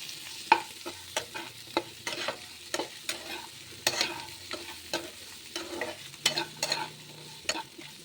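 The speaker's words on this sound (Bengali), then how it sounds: "নাড়াচাড়া করে নেব, ভাজা ভাজা করব।" Mixed vegetables for Bengali shukto, seasoned with salt and turmeric, are stirred and fried in a pan: a steady low sizzle runs under frequent sharp scraping and tapping strokes of the spatula, close up and with no talking.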